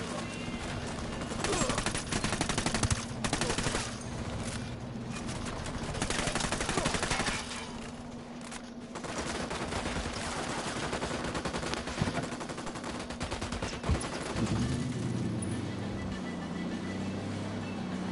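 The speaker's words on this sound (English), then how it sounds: "Opening fire." Gunfire in Ghost Recon Wildlands, a sustained, loud barrage of rapid automatic shots and bursts running throughout, with faint game voices and vehicle rumble underneath.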